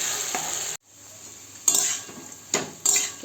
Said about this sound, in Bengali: চালটা দিয়ে এবারে বেশ কিছু সময় চালটাকে কষে নেব